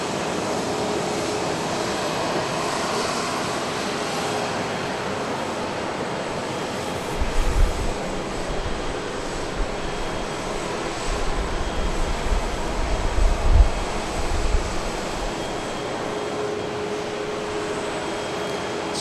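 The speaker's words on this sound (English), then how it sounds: "the 737-700, going to Lubbock, Texas" A 22-year-old Boeing 737-700 airliner at Dallas Love Field, bound for Lubbock, Texas, produces a broad, steady jet roar with a deeper rumble swelling midway, heard at a distance and without talk.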